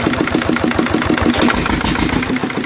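Lister diesel engine running loud and close with a steady rhythmic chugging throb, its throttle raised by tapping a relay.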